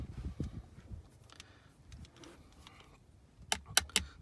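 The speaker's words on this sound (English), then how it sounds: "watching me put screws into place" Screws being driven into the center console of a 2011 Ford F-350 Super Duty, heard as a few quick, sharp ticking clicks near the end after soft, low rustling handling noise.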